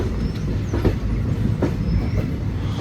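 Thrissur-Kannur Express, an Indian passenger train, crossing from a loop line onto the main line near Shoranur Junction; a steady low rumble with intermittent wheel clatter and faint squeals, heard from inside the coach without talk.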